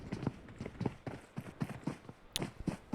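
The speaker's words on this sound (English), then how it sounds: "I think they've heard the footsteps already" Running footsteps in the battle royale game PUBG, on the Erangel map during a first-person-only esports semifinal: a quick, steady patter of thudding steps, about three or four per second, close and continuous for the whole stretch.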